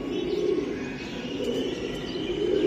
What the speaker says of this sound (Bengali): এটা দুইটা রেস করা কবুতর।